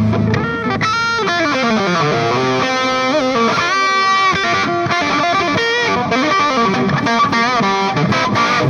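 Electric guitar played through an amplifier with a touch of plug-in delay, on a Carvin Brendon Small model, melodic runs and sustained bent notes with repeating echoes, loud and alone.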